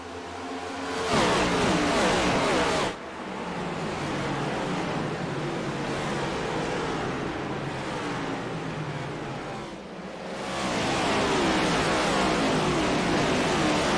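Race cars roaring past at Gateway during an MPI Cup Series race in St. Louis, loud sustained engine noise with a brief drop between cars, then another pass.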